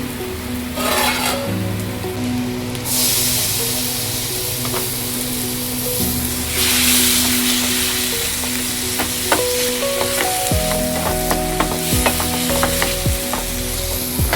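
Mixed vegetables sizzle and fry in a pan while being stirred and toasted, a steady loud crackling hiss with scraping spoon strokes and knocks toward the end.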